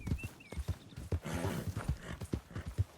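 Horse hooves clip-clopping in a steady rhythmic walk in the video game Red Dead Redemption 2, close and distinct, with a brief faint whinny-like sound near the start.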